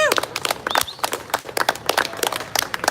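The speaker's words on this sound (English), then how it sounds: "give you guys yourself a round of applause" Rally attendees at a unity gathering in California applaud in uneven bursts of separate claps with brief gaps, fairly close and loud, mixed with a few cheers and whistles.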